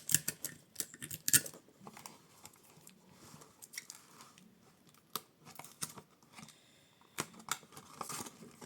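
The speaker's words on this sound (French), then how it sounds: "Et puis, vous coupez vos languettes en biseau." Scattered sharp snips and crisp cuts of scissors cutting tape strips at an angle, several irregular bursts close by, with quiet pauses between them and no talking.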